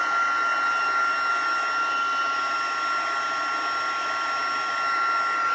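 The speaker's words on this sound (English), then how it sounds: "I know some people heat emboss from the bottom" A heat gun blows steadily and continuously while heat embossing powder on a birthday card sentiment, a constant whooshing hum with a faint high whine, close and unbroken, with no talking.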